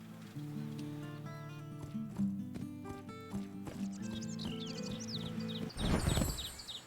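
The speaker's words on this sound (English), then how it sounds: "You need to guide your horse following the instructions provided while mastering the lunge line." A horse trots on a lunge line in a video game, with a steady rhythm of clip-clop hoofbeats under layered background music, closing with a louder burst of noise.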